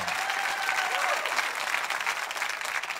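A church congregation claps and applauds together in a large hall, a steady dense wash of hand claps lasting a few seconds with a faint murmur of voices.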